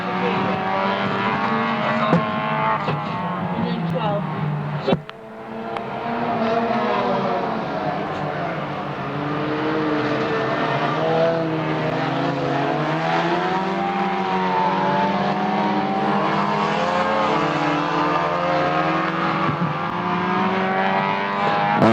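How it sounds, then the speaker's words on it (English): Street stock race cars, about four of them, roar around an oval track at an expo, their engines loud and sustained with shifting pitch as they pass near, a brief dip midway, and a voice talking underneath. "So street stocks then running around the track at the moment, only 4 cars"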